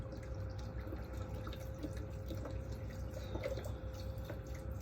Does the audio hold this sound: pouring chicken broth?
yes